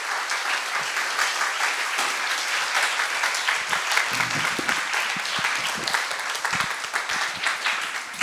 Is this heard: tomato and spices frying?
no